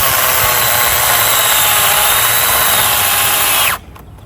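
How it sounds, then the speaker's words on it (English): A small chainsaw cutting into a maple bonsai, a loud, steady high-pitched buzz running continuously for several seconds before cutting off abruptly near the end. "I find these little chainsaws very useful."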